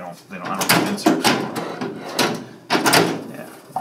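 A drawer in a tool cabinet at a tool maker's facility slides open and shut several times, each pass a sharp rolling clatter with a thud, close by, with voices talking around the movements.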